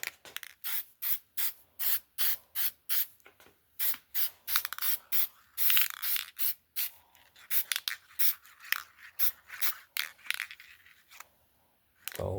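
Short bursts from an aerosol spray can laying a light first coat of paint on an RC car body, a long series of sharp hissing puffs in an uneven rhythm, close and clear with no talk.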